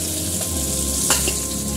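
Three dry chillies and nigella seeds sizzle and crackle in hot oil left from frying fish, a steady close-up frying hiss with a brief stir or clink partway through.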